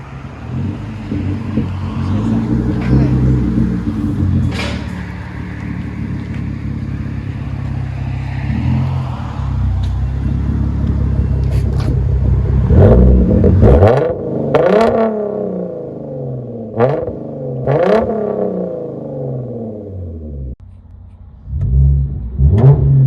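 Engine of a 2015 Hyundai Genesis Coupe with a dual exhaust, Y pipe and muffler delete, rumbling loudly at close range and rising in several sharp revs before dropping back to idle.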